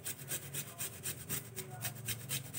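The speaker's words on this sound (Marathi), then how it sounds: "आता आपण हा किसून घेणार आहोत." Fresh ginger rubbed against a grater for mint chutney, a quick run of rhythmic scraping strokes, close and soft, with no voices.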